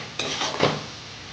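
Chicken curry masala with cumin powder is sautéed in a pan, giving a couple of quick metallic scraping and clinking strokes of a utensil against the cookware, close and brief.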